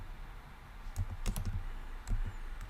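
Code being typed on a computer keyboard, with several quick clusters of close, crisp key clicks separated by short pauses.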